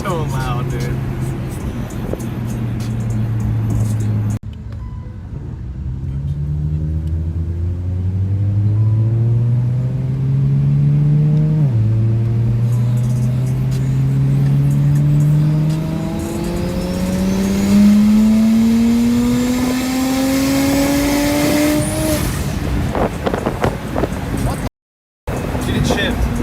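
A BMW N54 335i fitted with a single turbo revs hard and very loud, the engine note climbing steadily through the gears with rumbling exhaust, then cutting abruptly near the end.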